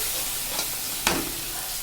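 Spice masala with water, salt and mustard oil being stirred in a pan for a fish curry, a soft continuous sizzle broken by two brief scraping strokes, the second sharper and louder.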